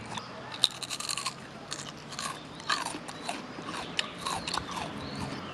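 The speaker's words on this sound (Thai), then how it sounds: "เคี้ยวเพลินด้วย" Crunchy fried Thai khao raem fuen is chewed close to the microphone, giving a run of irregular, crackling crunches and bites that keeps going throughout.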